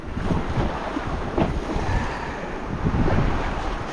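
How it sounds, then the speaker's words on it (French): Small ocean waves wash and lap steadily close by, mixed with a constant rush of wind buffeting the microphone; no voices. "c'est des petites vaguelettes."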